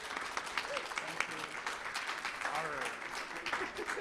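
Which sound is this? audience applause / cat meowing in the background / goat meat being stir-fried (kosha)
audience applause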